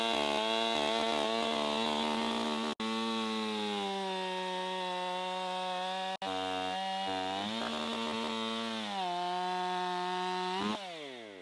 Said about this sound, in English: I'm just going to make a plunge cut and find out how rotten it is.